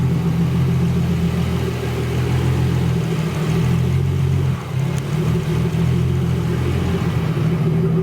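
A car engine idles steadily after an Aeromotive 340 fuel pump install, giving a low, even rumble that runs continuously at moderate volume with a brief dip partway through.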